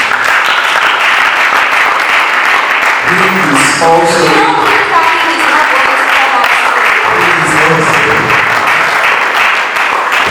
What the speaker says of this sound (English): I think you're supposed to be clapping right now.